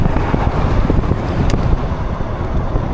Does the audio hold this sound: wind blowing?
yes